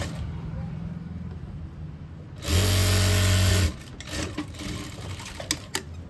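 A sewing machine stitches together the panels of a 12-panel palazzo in a single steady burst of about a second, close and loud against a quiet room.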